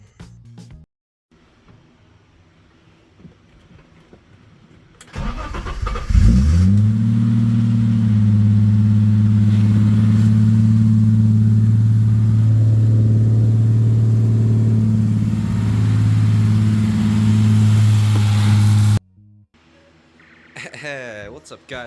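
A turbocharged BMW E30 engine cranks and catches after being fitted with new oil lines, then settles into a loud, steady idle for about twelve seconds before cutting off abruptly, with quiet handling noises and faint talk before and after.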